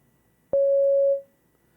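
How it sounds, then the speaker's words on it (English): A single pure electronic tone, steady and clean, holding for about half a second before fading out quickly. "We have a sine wave again."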